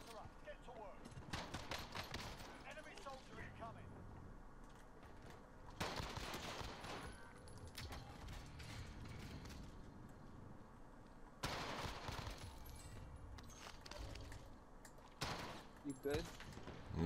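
Bursts of automatic gunfire from two enemies in Warzone crackle in repeated volleys, some sharp and close, with chatter from players in between and over the shots.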